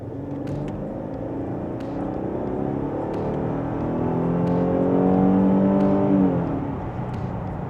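A Mercedes W211 E320 accelerating from the driver's seat, its engine note rising steadily in pitch and loudness through the gear, then easing off near the end, heard as a continuous smooth interior drone with faint taps over it.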